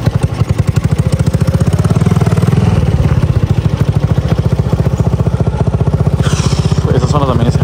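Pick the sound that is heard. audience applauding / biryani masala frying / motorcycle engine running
motorcycle engine running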